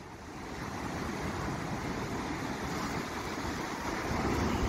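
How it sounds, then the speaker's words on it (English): Strong wind buffets the microphone over a steady roar of heavy ocean swell and surf on a coast, loud and continuous, with no talk. "there's a hell of a lot of wind and swell"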